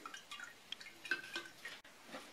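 Alcohol drips from soaked coconut flakes in a quiet kitchen, a scatter of faint, irregular plinks and patters.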